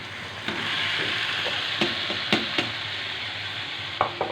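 Potatoes sizzle in a pan for puri bhaji as a steady frying hiss runs throughout, broken by several sharp knocks and scrapes from stirring.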